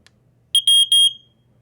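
First-generation SA67D smoke alarm sounding three loud, piercing electronic beeps in quick succession, close and isolated, with near silence before and after.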